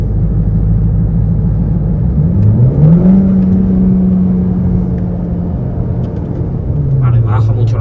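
A chip-tuned Cupra car's engine accelerating in Cupra mode, a steady low rumble rising in pitch and holding, heard from inside the car under continuous talk.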